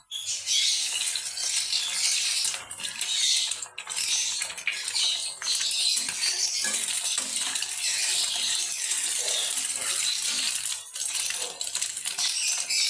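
Maggi noodles fry in a pan with vegetables and a cracked egg, giving a continuous bright sizzle broken by occasional clinks and scrapes of a utensil.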